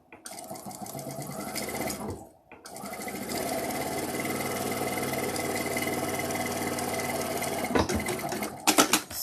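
A sewing machine stitches fabric in a steady, continuous whir for most of the stretch, pausing briefly near the start and ending with a few louder clunks as it stops.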